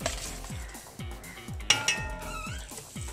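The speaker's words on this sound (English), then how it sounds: "now give it a good mix with your chopsticks" Maggi murtabak mixture beaten with chopsticks in a bowl, a quick regular series of tapping clicks and clinks against the bowl, close and fairly quiet, with no talking.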